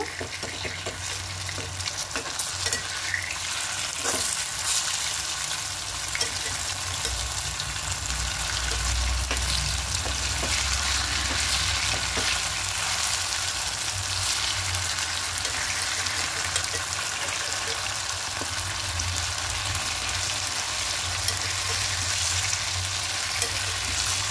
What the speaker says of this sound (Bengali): এবার এখান থেকে একে একে নেব আর তেলের মধ্যে বসিয়ে দেব